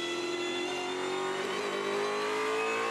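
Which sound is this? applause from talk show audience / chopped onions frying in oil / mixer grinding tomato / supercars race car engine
supercars race car engine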